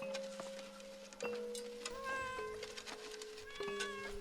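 Inside the game Layers of Fear: Inheritance, a cat gives a series of drawn-out, tonal meows, close and clear, with several calls following one another over a quiet, dim background.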